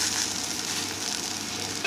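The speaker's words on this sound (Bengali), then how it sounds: "কড়া করে ভেজে নিলেই কিন্তু হয়ে যাবে উত্তাপা" Uttapam made from dosa batter fries in a pan with a steady, close sizzle and light stirring or scraping throughout, no voices.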